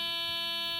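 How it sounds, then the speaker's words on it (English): Warning buzzer in a vandalized Mercedes 420 SEL, a steady electronic tone with many stacked harmonics sounding continuously and alone at moderate level. "Oh, there's that Mercedes buzzer."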